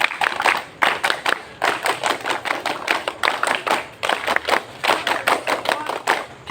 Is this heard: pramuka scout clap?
yes